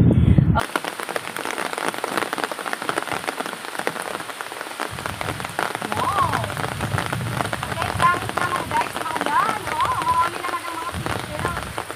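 Steady rain patters on a surface throughout during a stormy day on a mud crab and shell hunting outing, a dense continuous hiss with faint tones drifting in midway.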